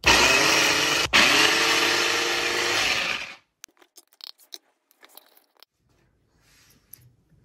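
A mixer grinder crushes broccoli florets in a loud continuous whir lasting about three seconds with one brief dip, then stops, leaving only faint scattered clicks and clatter.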